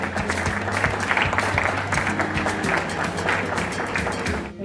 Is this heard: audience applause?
yes